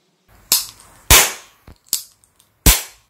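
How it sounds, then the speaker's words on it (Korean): A 1968 MGC RMI Derringer pocket model gun fires caps close by, giving about four sharp, loud cracks at uneven intervals with a couple of smaller pops between them and no voices. "이렇게 발사할 수 있는 포켓 피스톨이죠."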